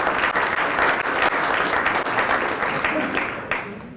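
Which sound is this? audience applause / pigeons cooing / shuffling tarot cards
audience applause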